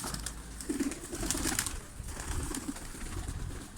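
Low, soft cooing from a pigeon or dove repeats a few times over steady background noise and light rustling, fairly close.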